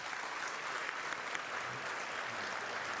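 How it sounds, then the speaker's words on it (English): Forum audience applauds a panel at a carbon capture, utilisation and storage event, steady dense clapping filling the room at moderate volume. "let's definitely give the panel and also our chair a round of applause"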